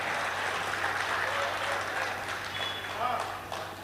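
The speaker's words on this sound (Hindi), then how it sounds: "एक बार आगे से पीछे तक जोरदार तालियां बजाकर मन बना दीजिए" Loud audience applause at a Hindi comedy poetry gathering, a dense crowd of clapping that swells and then fades toward the end, with voices mixed in.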